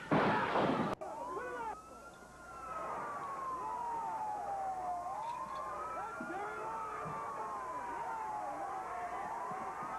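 An ambulance siren wails in a steady rising-and-falling pattern at a wrestling event, loud and continuous after a sharp burst at the start, over a dense crowd roar.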